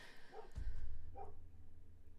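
Two faint, distant dog barks about a second apart, heard from a home where dogs, sheep and cats are kept, over a low background rumble with no talking.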